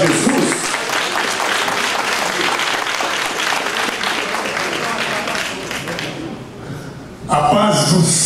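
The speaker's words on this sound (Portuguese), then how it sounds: "Com aplauso, amém, igreja, para Jesus." A church congregation applauds steadily for several seconds, a dense close wash of clapping that fades before a voice speaks over the end.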